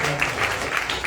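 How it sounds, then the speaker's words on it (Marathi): A brief burst of dense audience clapping fills a hall at a Star Pravah television entertainment event, a continuous wash of applause lasting about a second. "एकदा जोरदार टाळ्या झाल्या"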